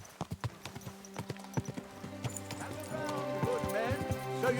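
Horse hooves clip-clop in the Kingdom Come Deliverance 2 video game, a steady rhythm of close hoof strikes that continues under a man's speech and game music, with a brief horse whinny.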